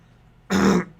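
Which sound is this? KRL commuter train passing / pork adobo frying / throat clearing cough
throat clearing cough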